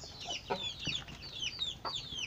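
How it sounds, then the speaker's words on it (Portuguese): Backyard hens cluck up close in a string of short, uneven calls and squawks, with soft rustling between them. "Olha as galinhas como estão, ó."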